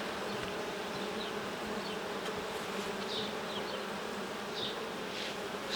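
Honeybees hum at an open Ukrainian-Alpine hive while the colony is being expanded with extra frames. The buzzing is a faint but steady drone with occasional louder passes from single bees close by.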